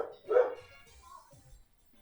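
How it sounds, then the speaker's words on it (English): A dog barks in a Pokemon Legends video game battle, one short loud yelp-like bark near the start followed by fainter low rumbling sounds. "Barking."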